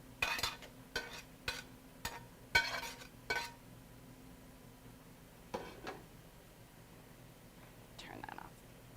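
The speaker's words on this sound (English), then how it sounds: "we're just going to spread it in our pan just so you get all the meat, all the veggies kind of evenly distributed and set" Meat and vegetable mixture pushed and spread around a cooking pan, giving a series of short scraping and clinking strokes in the first few seconds, then quieter stirring sounds with a faint sizzle underneath.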